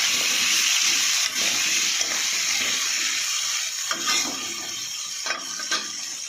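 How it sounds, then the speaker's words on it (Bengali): Potatoes, including rajma potatoes, frying with lightly browned onions in a pan, giving a steady, close, loud hiss and sizzle with a few faint clinks of stirring. "আলুটা পেঁয়াজের সাথে ভেজে নেব।"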